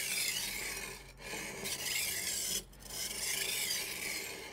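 Repeated rasping, grinding strokes of a knife on a diamond roller sharpener, close and continuous with two brief pauses between passes; no voices.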